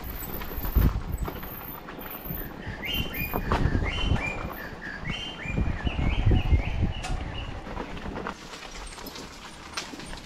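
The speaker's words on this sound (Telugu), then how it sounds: "ఆ పక్కన బర్డ్ సౌండ్స్ అయితే చాలా అద్భుతంగా వినిపిస్తున్నాయి" Birds sing and chirp in bright, repeated phrases across a wooded valley near Chikmagalur, mid-distance over rustling movement and low thumps, with no talk.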